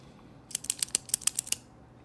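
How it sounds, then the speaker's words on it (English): Clicker mechanism of a Pelikan K200 ballpoint pen, loose and sloppy in feel, clicked rapidly about nine times in a row: sharp, close, bright clicks with nothing else audible. "Kind of a sloppy feeling clicker mechanism."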